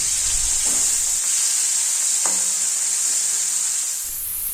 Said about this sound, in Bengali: এদিকে এঁচড়গুলিও আমার ভাজা হয়ে গেছে